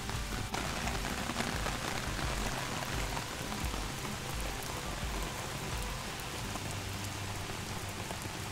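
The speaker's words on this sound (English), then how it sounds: "It's raining a lot harder now." Heavy rain pours steadily and loudly on a Seoul street, a dense unbroken hiss of drops drumming on surfaces throughout.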